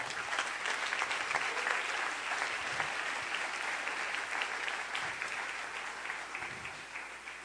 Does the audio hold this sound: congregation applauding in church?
yes